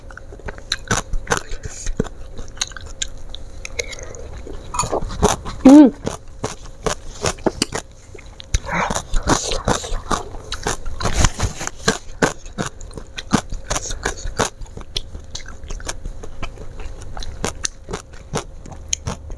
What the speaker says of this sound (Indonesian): Makan cumi asin kemangi lalapan peutuy.